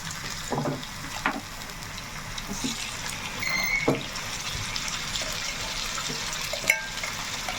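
Chicken joints frying in hot oil, with a steady low sizzle, soft crackles and a few sharper pops and spatters, close by with no talking.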